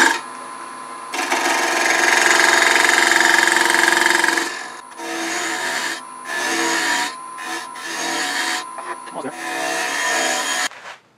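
A wood lathe spinning at about 1,000 RPM, turning a laminated wooden blank for a display turntable: a steady motor whine with a rough scraping tone as the tool cuts in several sustained passes, broken by brief pauses.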